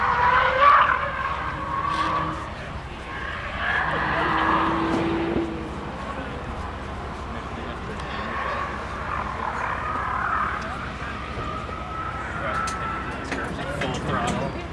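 A new Honda/Acura NSX race car is driven hard at full throttle on a track, its engine roaring and surging with some tire noise, heard under people talking nearby.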